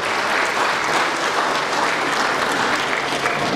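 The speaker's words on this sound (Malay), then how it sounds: "Kita beri tepukan terima kasih." A large crowd gives loud, continuous applause of thanks at a formal ceremony in Malaysia, the clapping dense and even throughout with no break.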